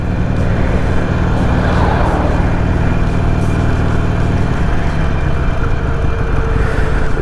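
A Harley-Davidson Iron 883 Sportster's 883cc two-cylinder V-twin engine runs steadily, a loud, continuous low rumble close by with no pauses.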